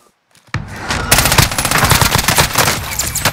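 Rapid automatic gunfire from a Call of Duty Warzone match erupts after a brief near-silence, dense and loud with sustained bursts running to the end.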